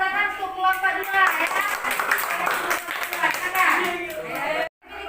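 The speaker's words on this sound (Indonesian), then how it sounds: "tepuk tangan untuk kelompok 2 ya" Classroom students clap together for a group after its presentation, a dense burst of applause lasting several seconds, mixed with voices and chatter, then cutting off abruptly near the end.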